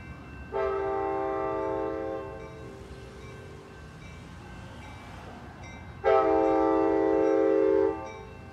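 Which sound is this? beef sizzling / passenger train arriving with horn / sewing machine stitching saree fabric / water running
passenger train arriving with horn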